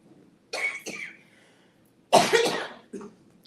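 Two harsh coughing fits break a quiet room, each a burst of rough, breathy coughs, followed by a smaller throaty sound.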